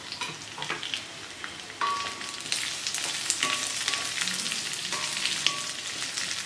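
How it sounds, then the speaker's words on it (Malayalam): Onion and green chili sauté in a pan for a Kerala-style rabbit roast, with a continuous close sizzle that grows louder after a couple of seconds and is broken by occasional scraping stirs. No one speaks. "കട്ട് ചെയ്ത് വെച്ചിരിക്കുന്ന ഉള്ളിയും പച്ചമുളകും കൂടി ചേർത്ത് കൊടുക്കാം. ഇവ ചേർത്ത് വീണ്ടും നല്ലപോലെ വഴറ്റി കൊടുക്കണം."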